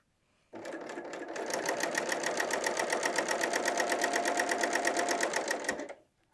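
BERNINA L 890 sewing machine stitching across woven fabric for a top starts abruptly into a fast, even needle rhythm. The steady mechanical whir runs for about five seconds, then stops, close up and with no talking.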